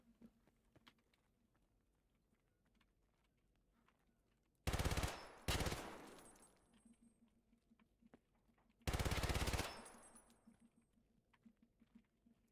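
Bursts of PPSh submachine gun fire in Escape From Tarkov: three loud rapid-fire volleys, two close together and a third a few seconds later, over quiet in-game background noise.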